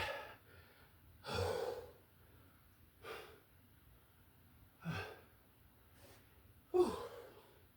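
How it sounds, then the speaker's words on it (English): A person breathing heavily after doing squats, with four or five loud gasping breaths spaced a second or two apart and quiet stretches between them. "Let me catch my breath"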